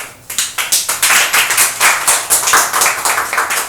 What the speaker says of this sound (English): So clapping for class.